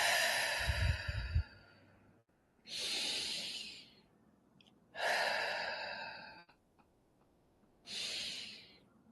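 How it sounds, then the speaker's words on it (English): Slow, deep breaths repeat in a steady rhythm, four long airy inhales and exhales each lasting over a second with quiet pauses between, close to the microphone and heard alone. "let's just take a deep breath and close our eyes and come together"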